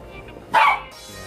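A house dog gives a single loud, sharp bark as someone enters the home, standing out clearly against a quiet room.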